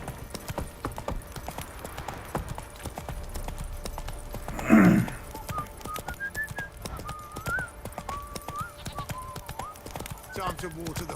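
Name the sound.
horse hooves trotting in video game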